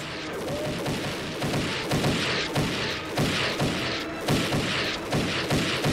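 Soldiers open fire in a wartime battle scene, loud dense bursts of rifle and machine-gun shots rattling almost continuously, with heavy booming thuds mixed in and no talking.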